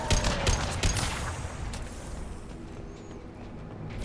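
Gunfire from an impact shot in Mass Effect 2 on PS3: a dense, loud crackle of rapid shots and impacts up front that thins into a softer rattling tail.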